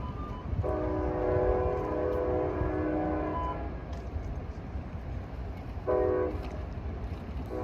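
A late-running Caltrain baby bullet, train 707, passing trackside, sounding its K5LA horn in a long chord blast and then a shorter one over a constant low rumble of rolling wheels.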